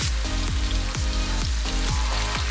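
Sliced shallots, garlic, and spices sizzling in a hot pan with oil, a steady dense frying hiss broken by regular scraping stir strokes about twice a second, close and loud with no voices.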